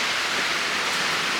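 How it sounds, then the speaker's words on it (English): Rain pours steadily on the metal roof of a shop, making a loud, dense, unbroken hiss and patter with no voices. "It's raining outside and the roof is made out of metal."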